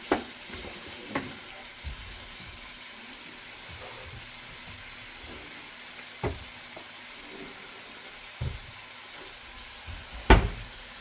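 Chili cooking in a pan gives a steady, close sizzle and fry hiss, broken by a few sharp clinks and scrapes from stirring at irregular moments.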